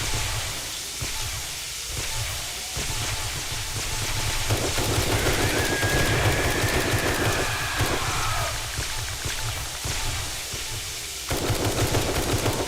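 Sustained, dense automatic gunfire in a horde-survival shooter game, a loud rapid stream of shots filling the whole stretch with no voices.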